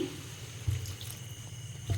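A small amount of water is poured into a pot of ridge gourd and chana dal curry cooked without onion or garlic, giving short splashy pours over a low, steady background hiss.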